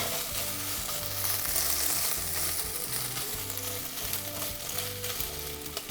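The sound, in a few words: bacon frying over low heat for carbonara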